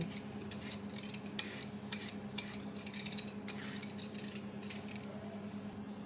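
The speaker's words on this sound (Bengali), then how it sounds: "মিষ্টি আলুটার আমি খোসা ছাড়িয়ে নিচ্ছি" A sweet potato being peeled by hand for a rainy-morning breakfast snack: a series of short, dry scraping strokes come in uneven bursts, close up and fairly quiet, over a steady low background hum with no talking.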